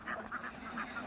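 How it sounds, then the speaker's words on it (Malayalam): Ducks playing in a Kerala village quack several times in quick succession, soft and a little distant, over a faint outdoor background. "there are a lot of ducks."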